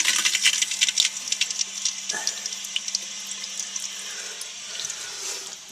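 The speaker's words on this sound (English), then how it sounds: "We'll watch that tank fill up and we'll see what happens." Water rushes steadily into a toilet tank as it refills, a close hissing flow that gradually settles into a softer, even stream.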